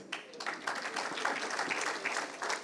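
An audience at an event applauds for actor Paresh Rawal, a fairly quiet, dense patter of clapping from a crowd that holds steady throughout.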